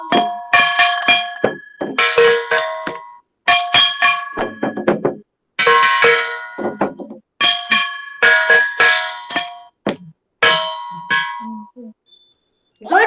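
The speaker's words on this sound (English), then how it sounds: "Variation with bells and drum" In a kindergarten class session, bells and a drum are played in short rhythmic bursts with brief pauses between them, ringing bright metallic tones with sharp hits, loud and close.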